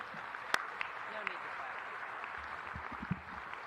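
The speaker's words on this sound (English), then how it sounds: "Clap for Dr. Vanita Mitchell." Applause at a university spring commencement ceremony: a soft, distant crowd clapping, heard faintly beneath a voice speaking over the hall, with scattered louder claps.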